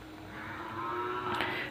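A Jersey cow in its second lactation moos at a rural livestock market, one sustained low call rising near the end, heard fairly close with no talk over it.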